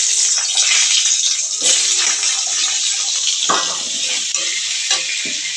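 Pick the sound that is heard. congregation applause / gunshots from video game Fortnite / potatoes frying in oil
potatoes frying in oil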